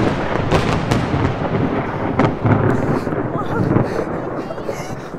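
Thunder from a lightning strike during a storm rolls as a broad, continuous rumble for several seconds, fairly loud and near, mixed with wind buffeting the microphone.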